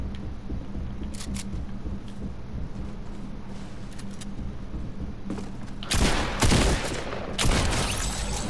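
Gunshots in the video game Fortnite, including an AK-style rifle, crack out as a loud cluster of rapid shots in the final seconds, after a stretch of quieter game ambience and isolated distant pops.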